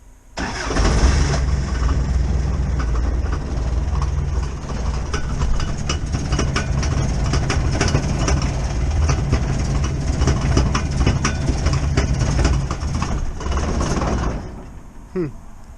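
Car engine fitted with a freshly welded exhaust built from junk parts, starting and then running loud and close with a steady rough drone for about fourteen seconds before cutting off.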